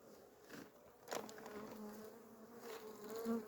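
Honey bees buzz close by around a hive, a wavering drone that swells and fades as individual insects pass near and away.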